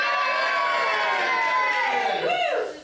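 An audience at a Guild AGM in 2025 cheers loudly for Basil Brush, with a dense crowd roar of many voices and shouts, sustained and close, fading at the end.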